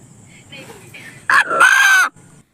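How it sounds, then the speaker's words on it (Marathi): A rooster crows once, loud and close, a strained rising call lasting under a second, with faint background murmur before and after. "अण्णा नावाने हाक मारणारा बोलका कोंबडा"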